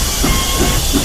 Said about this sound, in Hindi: अरे भाई, ये ट्रेन तो चल पड़ी।